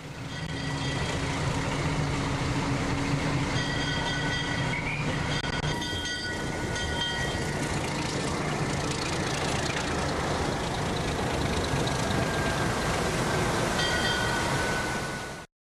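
A PeruRail passenger train rolls past up close at Aguas Calientes near Machu Picchu, a steady loud rumble of wheels and carriages with faint metallic squeals and hum, continuous for the whole stretch.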